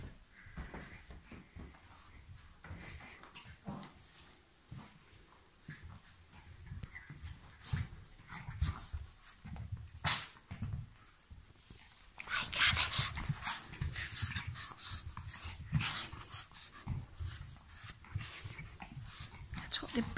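Two dogs play and tussle over a teddy bear indoors, panting, snuffling and scuffling in irregular bursts, with a person talking over them throughout.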